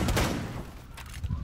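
Rapid gunfire in the video game Rainbow Six, a burst of close, loud shots early on, then scattered quieter bangs and thumps with a renewed hit near the end.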